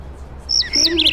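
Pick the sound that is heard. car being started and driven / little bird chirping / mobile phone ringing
little bird chirping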